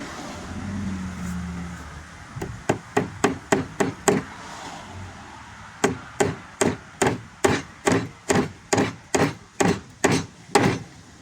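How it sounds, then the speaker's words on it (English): A hammer drives nails into a laminate countertop with steady, close wooden knocks, a short run of about eight blows, a brief pause, then a longer even series of around thirteen strikes. "You're only going to want to put 3 nails in this with that glue in there."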